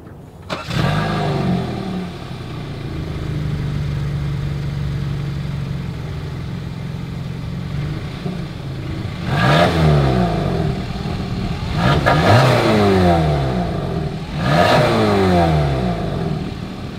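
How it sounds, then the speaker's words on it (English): Exhaust of a 2023 Kia Sportage compact SUV, starting up and idling steadily, then three sharp revs in a row that rise and fall, heard close with no talking. "As always, here is that exhaust clip."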